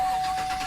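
A 2017 Chevrolet Tahoe Premier's 5.3 liter V8 engine, started by push button, gives a short, steady, close car-engine rumble with no pauses.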